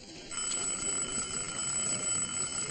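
A timer rings with a steady high-pitched electronic tone that holds evenly for a couple of seconds at moderate volume.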